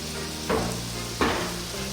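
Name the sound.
tomatoes cooking and being stirred in a pan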